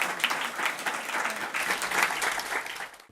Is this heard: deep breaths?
no